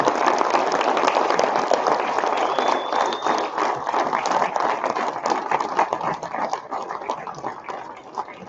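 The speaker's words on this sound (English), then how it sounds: "Give him a round of applause." A crowd at a state bid calling championship gives a round of applause, dense clapping that starts at full strength and gradually thins and fades over about eight seconds.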